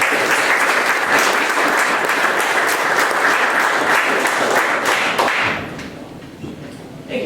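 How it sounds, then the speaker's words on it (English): An audience at a startup event applauds a presenting company, a dense, loud burst of clapping that carries steadily before thinning out and fading toward the end. "please give a warm round of applause for Hubfox"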